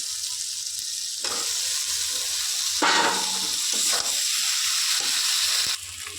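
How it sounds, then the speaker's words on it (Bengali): Shrimp and taro stolons sizzle steadily in a hot pan, a continuous close frying hiss that swells as the stolons go in, with a few stirring scrapes and no talk. "তারপরে চিংড়ি মাছগুলো দিয়ে দিলাম। এরপরে লতিগুলো দিয়ে দিচ্ছি।"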